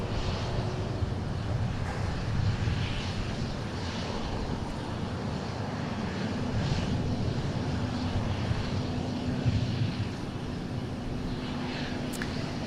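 A jet roars steadily while taking off at Dallas Love Field, heard from a parking garage. The sound is a sustained, fairly distant rumble and whine with no voices.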